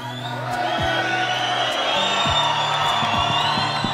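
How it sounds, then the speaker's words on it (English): Audience cheering and whooping at a wedding ceremony as the couple and family are welcomed, a steady moderate crowd noise with scattered high calls and some voices mixed in. "Give them a round of applause, please."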